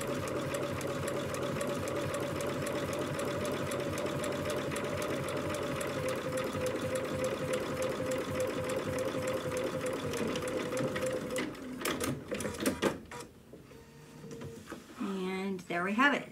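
A sewing machine runs a steady, rapid stitching whir while attaching rickrack for about eleven seconds, then halts with a few clunks and handling noises, and a voice speaks briefly near the end.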